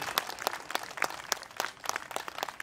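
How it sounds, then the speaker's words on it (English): Outdoor rally crowd on Boston Common applauding, dense scattered hand claps at moderate volume with no talk. "Let's have a round of applause for that."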